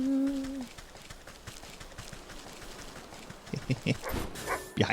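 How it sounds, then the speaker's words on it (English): A dog barks in the video game Wytchwood: several short yips and barks cluster near the end over quiet background game ambience, following a brief tonal chime at the start. "You stupid dog."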